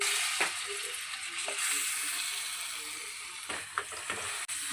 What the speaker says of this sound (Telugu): నెయ్యి వేడయ్యాక మనం మిక్సీ పట్టుకున్న ఖర్జూర పండు మిశ్రమాన్ని ఇందులో వేసుకుందాం